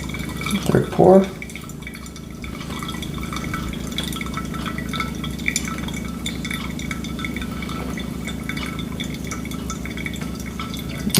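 Close, steady stream of water poured over Guatemalan coffee grounds in a V60 dripper, a continuous trickle with a short burst of noise near the start and faint background hum.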